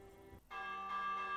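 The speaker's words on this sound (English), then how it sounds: "Ring the bell!" A bell rings in the video game Minecraft Dungeons: a brief dull knock, then a clear sustained chime with a ringing tone that holds steady and slightly brightens, heard alone without talk.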